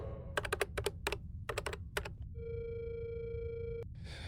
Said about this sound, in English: I grabbed the phone and dialed.